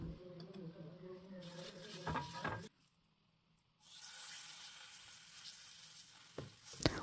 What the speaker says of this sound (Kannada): ಕಾವಲಿ ಬಿಸಿಯಾಗುತ್ತಿದ್ದಂತೆ ಕಾವಲಿಗೆ ಒಂದು ಚಮಚೆ ಅಡಿಗೆ ಎಣ್ಣೆ ಹಾಕಬೇಕು